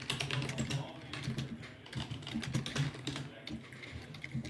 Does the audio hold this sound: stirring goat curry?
no